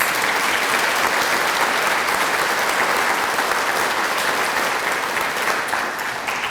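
Steady, dense applause from an audience at a 2021 C-TEC honors ceremony for students, a continuous roar of many hands clapping at moderate volume throughout, easing slightly at the end.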